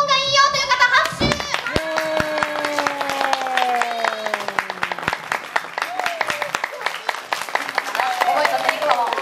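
A crowd claps in a quick patter to vote for Happy Kumamon at a Kumamon stage event, the scattered claps running under a sustained sung or called-out tone and children's voices.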